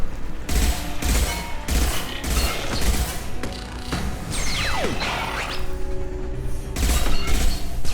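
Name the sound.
hacked turret firing in Mass Effect video game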